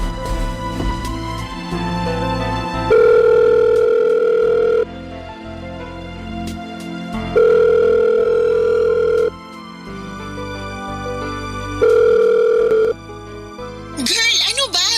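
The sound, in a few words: cellphone dial tone while calling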